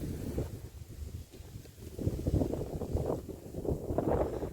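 Strong gusting wind over a rice paddy buffets the microphone with a low, rumbling roar that swells and eases, with no voices.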